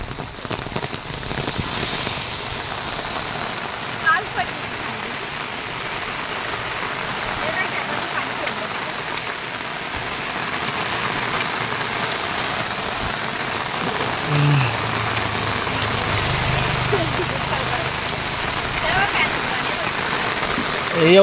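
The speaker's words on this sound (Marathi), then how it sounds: "पावसात फिरायला मजा वाटते" Heavy rain pours in a steady, dense hiss outdoors near a canal during a downpour warning, continuous and fairly close throughout, while people talk quietly underneath.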